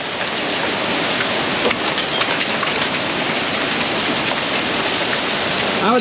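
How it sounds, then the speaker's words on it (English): Heavy rain pours steadily on an open food plot during a storm that also brings small hail and wind, a dense, loud, unbroken hiss of drops close by with no voices. "But it's raining pretty good."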